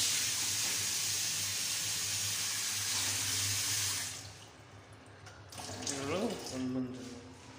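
A mixer tap runs a steady hissing stream of water into a sink for a few seconds, then shuts off, leaving quieter room sound.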